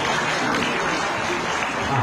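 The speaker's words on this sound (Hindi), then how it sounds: "तालियां बजाते रहिए प्लीज।" An audience applauds during an appointment letter ceremony, a dense continuous wash of clapping that fills the whole moment.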